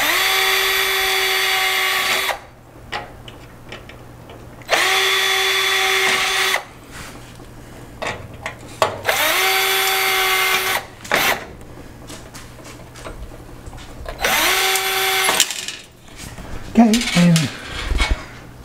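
A power drill bores out rivets on a farmhouse-style AC air intake cover in four long, loud high-pitched whining bursts separated by pauses, with small metallic clinks and handling noises between them.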